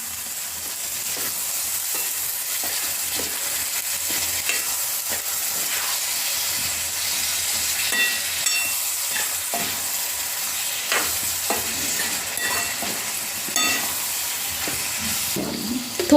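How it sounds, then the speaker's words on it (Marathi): Mixed vegetables are stirred into a frying masala in oil, giving a steady close sizzle and hiss with intermittent scraping stir strokes throughout, no talking. "आता आपण भाज्या घालणार आहे. सर्व जिन्नस एकजीव करून घ्यायचं."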